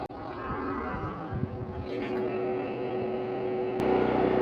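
A DuroStar DS4850EH portable generator runs with a steady, loud droning rumble heard up close outdoors, with some wind noise and no speech.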